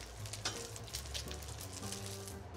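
Sea bass frying skin-side down in a pan, a faint, steady sizzle with light crackling and a couple of soft taps, continuous and quiet without any talking.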